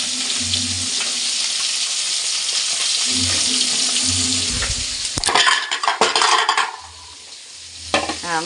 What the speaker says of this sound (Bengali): সর্ষে বাটা পোস্ত বাটা দিয়ে পুঁটি মাছ করলে বন্ধুরা বেশি ভাজা লাগে না, এপিট ওপিট করে ভাজলেই হয়ে যায়